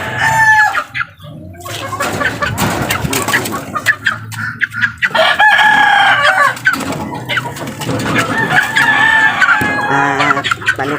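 A young chick being handled, heard alongside loud, close clucking and crowing from chickens, with repeated sharp high cries and squawks running continuously throughout.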